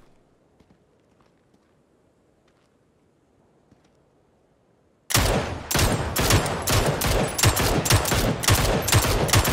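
Heavy gunfire erupts in a video game after several seconds of near silence, with dense, loud, rapid bursts of shots continuing without a break.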